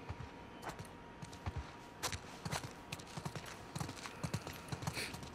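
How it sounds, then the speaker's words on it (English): Horse hooves clip-clop in The Last of Us Part 2 video game, a quiet, irregular run of hoofbeats at a walking pace over soft ambient background. "Let's get back to the horses."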